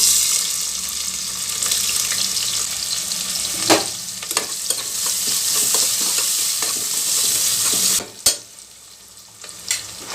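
Finely chopped onion with star anise, bay leaf and stone flower crackles in hot oil in a pressure cooker, a steady near sizzle broken by stirring knocks and a few sharp clatters, with no voices.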